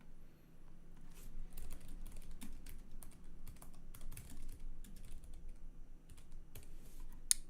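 Fingers type on a computer keyboard in a steady, quiet clatter of light key taps, close by and continuous, with no voices over it.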